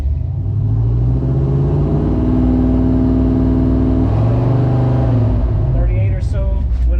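A Chevrolet C10 pickup engine is warmed up and revved, giving a steady, loud, close-up rumbling drone with a rise in pitch around the middle. Light talk is heard near the end.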